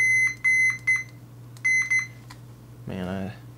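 A Fluke 87 multimeter in continuity mode, probed on circuit board pins, gives a run of short, sharp, high beeps, some in quick pairs, with gaps between, and a brief voice near the end.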